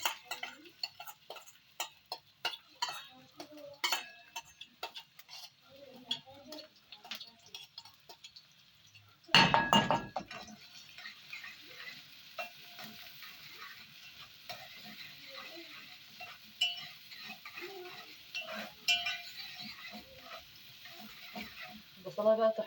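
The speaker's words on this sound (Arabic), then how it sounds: "هنحمر كده البصلايه" Onion fries in oil and a spoonful of ghee in a pot, a soft hissing sizzle with scattered clicks and utensil clatter, and a loud burst of crackling partway through, while someone talks over much of it.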